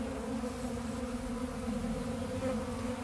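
A dense, steady buzzing of many honeybees during a honey harvest, close and continuous, with a low droning hum throughout.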